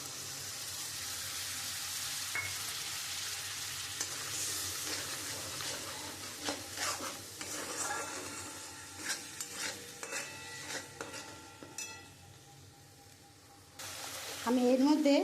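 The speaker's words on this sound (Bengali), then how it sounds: "এবার আমি দইটা দিয়ে দেবো।" Whisked yogurt hits a spiced masala in a pan for doi potol, sizzling as a spoon stirs and scrapes in irregular bursts, with a louder clattering flare near the end.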